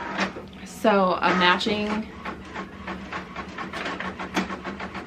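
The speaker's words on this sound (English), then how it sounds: "The printer, hopefully that's not too loud" A home printer runs in short mechanical bursts with a rhythmic feeding and clicking pattern, steady in the background while someone talks over it.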